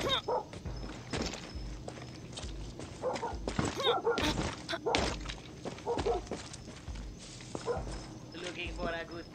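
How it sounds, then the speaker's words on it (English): A dog barks several times in the video game Far Cry 6, in short bursts mixed with other game sounds and voices. "A dog? How did you get in here, boy?"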